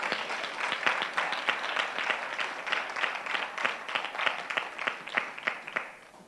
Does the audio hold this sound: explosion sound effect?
no